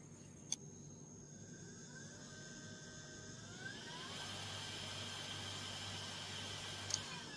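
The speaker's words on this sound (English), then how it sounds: "This is the hardware demonstration for BLDC motor drive." A brushless DC motor runs under PWM speed control, giving a steady whine with tonal lines that shift upward as the speed is raised midway, over a constant broadband hiss.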